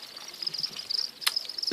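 Crickets kept in a breeding box chirp in a steady, high, shrill trill close by, joined by a brief sharp click partway through.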